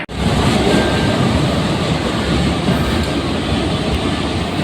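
An LRT light rail train in Manila rumbles along in a loud, steady roar heard from inside or close by, with a broad continuous hum and no voices.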